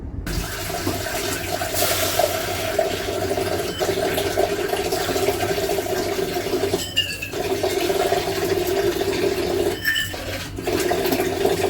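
Water pours steadily into a cooking pot holding samak rice for Navratri fasting khichdi, roughly four bowls for one bowl of rice, a continuous close-up rushing fill with brief dips partway through, no talking.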